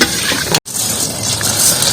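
Rice frying in a pan and turning slightly reddish, giving a close, steady crackling sizzle that cuts out for an instant and then continues.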